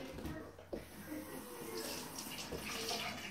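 Running tap water wetting a sponge while applying self-tanning lotion, a soft steady splashing flow with a few brief squelches, faint and close.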